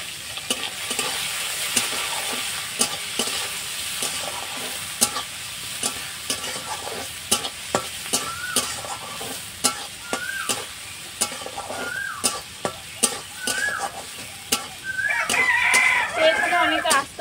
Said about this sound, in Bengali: তো এই ডালটা আমি এবার তেলের মধ্যে দিয়ে দিচ্ছি।